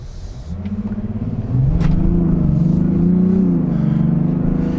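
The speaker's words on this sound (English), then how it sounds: "You can hear that inline 6-cylinder engine really roaring through an 8-speed automatic" A Mazda CX-70 inline six-cylinder diesel engine roars from inside the car through an 8-speed automatic, rising as it accelerates and then holding a strong, steady drone with slight pitch shifts.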